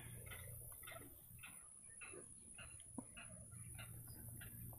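A limpkin calls at Florida wetlands in faint, distant, regularly repeated wailing cries. A steady hum of insects and background noise runs beneath them.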